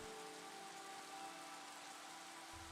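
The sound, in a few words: rain in the video game Against the Storm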